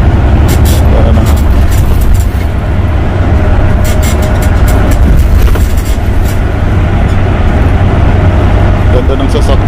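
Steady, loud cabin rumble as a bus drives along an evening road toward Abu Dhabi, a continuous smooth roar of engine and tyre noise from inside with no break.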